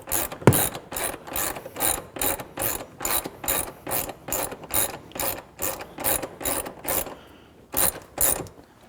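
Ratchet wrench cranking a bolt snug on a subwoofer install in a 2019+ BMW 3 Series G20, rapid rhythmic clicking strokes repeated about sixteen times, close and clear with a brief pause near the end.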